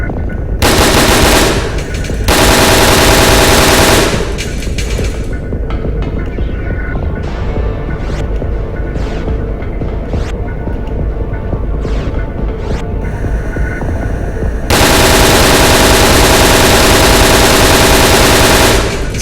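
Rapid bursts of machine-gun fire from the video game Resident Evil: Dead Aim, loud and sustained, with dense continuous volleys broken by short pauses and a throbbing hum between them.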